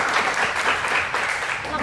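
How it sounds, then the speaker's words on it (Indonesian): Audience clapping at an Indonesian 2024 election stage show, a steady broadband patter lasting the whole moment at moderate volume, with voices mixed in underneath. "udah dua kali tepuk tangan dari tadi ya."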